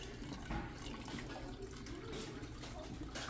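Water pouring into a home aquarium, a steady close splashing and gurgling rush that continues without a break and with no talk over it.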